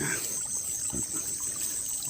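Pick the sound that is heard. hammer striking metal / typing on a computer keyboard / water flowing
water flowing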